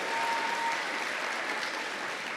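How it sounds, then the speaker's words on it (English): An audience claps for students at an 8th grade celebration, a dense, steady wash of applause from many hands that holds level for the whole stretch, with no voices standing out. "Well, we can just clap for everyone, that's fine."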